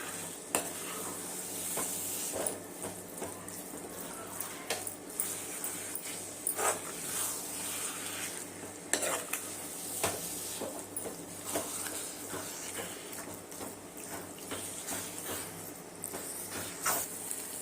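Mango thokku is stirred as it fries in a little oil, with a steady crackling sizzle running throughout and repeated scraping strokes of a spoon against the pan, close and continuous, with no talking.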